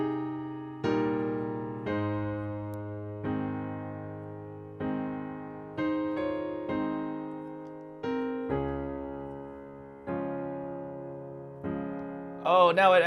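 A hymn on solo piano, with deep left-hand octaves and full chords struck one by one in a slow, even pulse. Each chord rings out and fades before the next.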